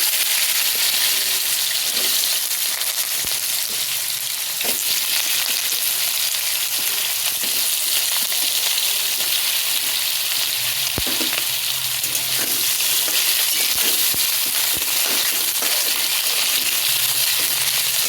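Potato sizzles steadily in hot oil in a pan with cumin and bay leaf, a loud continuous frying hiss with occasional stirring clicks and no talk.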